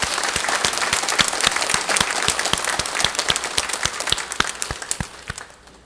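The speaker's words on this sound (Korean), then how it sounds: "한번 박수 한번 하겠습니다" A church congregation applauds together in a sanctuary, a steady dense wash of many hands clapping for several seconds, then thinning and fading toward the end.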